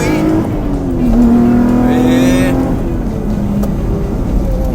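A Lotus Evora with a Lotus ECU accelerates, its engine note rising steadily and loud as heard from inside the cabin, with people talking over it.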